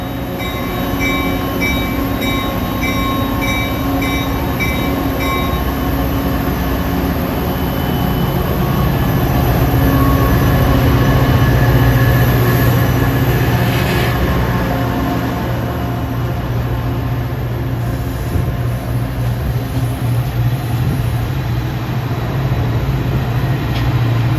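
The San Mateo, a Caltrain diesel locomotive, idles with its prime mover running in a loud, steady rumble and drone, joined early on by a sustained tonal whine that fades, the engine swelling slightly midway.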